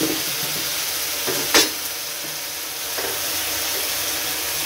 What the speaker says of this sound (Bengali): 5 মিনিটের মতো কষিয়ে নেব।